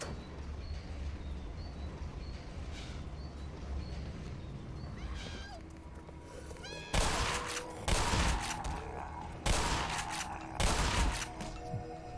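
Shotgun blasts in Black Mesa, three loud, close booming shots spaced about a second apart over steady game ambience and creature cries.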